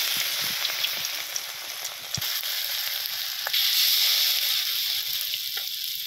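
Bora fritters of batter-coated egg frying in a kadai in a Bangladeshi village kitchen, giving a steady close sizzle with bubbly crackle throughout and a brief louder burst partway, no talking.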